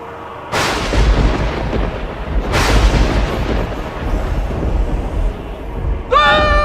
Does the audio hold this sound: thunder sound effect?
yes